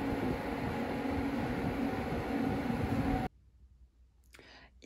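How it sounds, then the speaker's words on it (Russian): A loud, steady roar of a train arriving at a station fills the first few seconds, then cuts off abruptly, leaving quiet background with faint rustling. "Так, поезд приехал."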